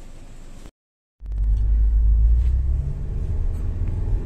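Citroen Xsara Picasso 2.0 petrol automatic heard from inside while driving off: a short silence, then a steady low engine and road rumble that swells and holds.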